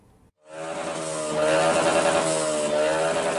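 A motorcycle fitted with a loud aftermarket exhaust, seized at an illegal street-racing spot in Makassar, kicks in after a brief silence and revs up into a sustained, harsh, buzzing roar that holds loud and close to the end.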